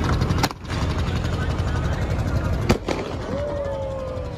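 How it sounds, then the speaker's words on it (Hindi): Two sharp firecracker bangs burst a couple of seconds apart over a noisy outdoor crowd at Dev Diwali in Varanasi, followed by a rising whistling tone. "अब पटाखे फोड़ने जा रहे हैं।"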